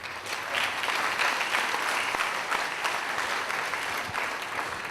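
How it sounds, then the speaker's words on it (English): An audience claps through a steady, dense round of applause at a parents' orientation event, loud and continuous from start to finish. "Round of applause"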